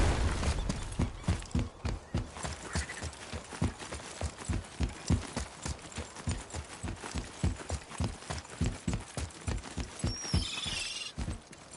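Steady clip-clop of a horse's hooves walking at an even pace in the video game God of War, close and clear, with a brief snort near the end.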